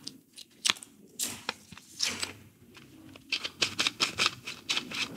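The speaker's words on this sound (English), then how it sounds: "So that just rips off, and we just cut that off." Black-and-white photographic film being snipped and handled while it is prepared for home developing, with a series of sharp cutting and crinkling sounds that come close together, some louder than others, and no talk.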